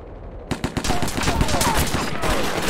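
Heavy gunfire from the war game Mud and Blood Pacific, a few sharp separate shots giving way to a dense, continuous burst of rapid automatic fire that holds loud and steady to the end.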